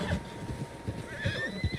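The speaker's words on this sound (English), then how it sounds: "Horses, quite a few of them." Several horses whinny and neigh in Red Dead Redemption 2, with soft clip-clop hooves and low snorts beneath, fairly close and moderately loud against a quiet outdoor background.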